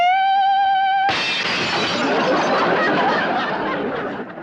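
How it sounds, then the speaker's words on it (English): Glass shatters loudly and abruptly, cutting off a sustained high sung note held by a voice beforehand, then a long crashing, tinkling spray of breaking shards that slowly fades over several seconds. "I hit such a perfect note, it busted the glass"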